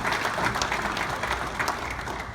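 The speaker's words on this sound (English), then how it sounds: "Steve Schoolcraft, a big round of applause." Steady applause from a crowd at the start of a morning talk, dense continuous clapping with no voices over it.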